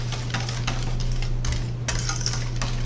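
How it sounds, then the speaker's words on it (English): A utensil stirring pumpkin pie filling and scraping around the sides of a bowl, soft repeated scrapes and light clinks over a steady low hum, close and continuous. "Scrape the sides of your bowls"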